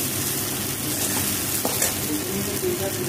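Cumin seeds fry in hot oil as a tempering, a loud, continuous sizzle close by, with a short clatter midway and no talk.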